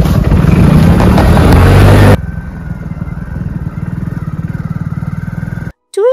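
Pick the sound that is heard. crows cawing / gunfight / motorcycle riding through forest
motorcycle riding through forest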